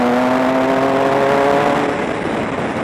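A 2007 Triumph Tiger 1050 triple-cylinder motorcycle pulls under acceleration, a loud steady engine drone with rising tonal harmonics and wind rush heard from the rider's position, with no talk.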